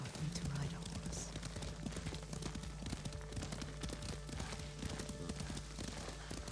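Horse hooves clip-clop at a steady riding pace in the samurai video game Ghost of Tsushima, a continuous rhythmic patter with game ambience and voices running alongside.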